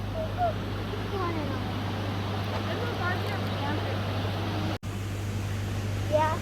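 Steady rushing water from the Haleiwa valley waterfall in Hawaii, a continuous broadband roar with voices talking over it.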